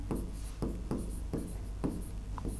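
Chalk on a classroom board during a lesson on Hindi synonyms, five evenly spaced scraping strokes, close and clear over a steady background hum, with no talking.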